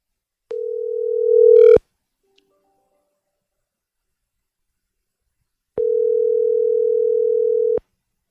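A phone ringback tone sounds twice: two long, steady electronic tones separated by several seconds of silence.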